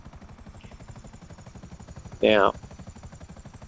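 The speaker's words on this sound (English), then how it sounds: "it seems to draw the police helicopters towards that" A police helicopter in the GTA 5 video game thrums with a steady rotor beat, continuous and moderately loud, while someone briefly speaks over it.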